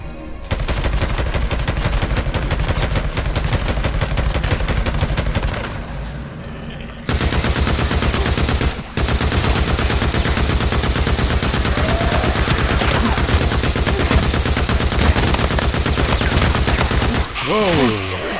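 A big gun in Days Gone fires in long, dense automatic bursts, loud and close, almost continuous for the whole stretch with a short break partway through.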